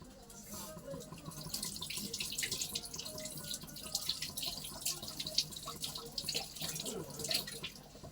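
Running tap water splashes steadily as a spatula is rinsed under a kitchen faucet while jaggery patishapta pitha cooks, a continuous close hiss of flowing water with small clatters throughout.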